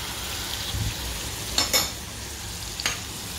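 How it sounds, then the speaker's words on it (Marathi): Ground garlic and cumin masala paste frying in hot oil in a kadhai, a constant close sizzle broken by a couple of brisk stirring scrapes, with no one speaking. "आणि तो थोडासा असा फ्राय करून घ्यायचा आहे"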